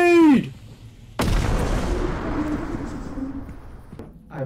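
A grenade goes off in one sudden loud blast, followed by a long rumbling decay lasting several seconds, with a brief voice before and after.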